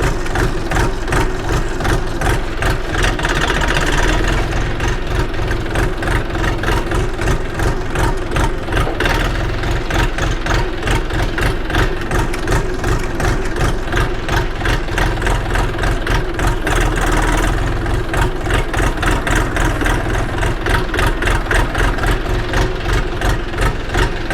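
A Xingtai 244THT farm tractor's diesel engine idles close and loud, a rapid, even chugging pulse that holds steady throughout with only slight swells.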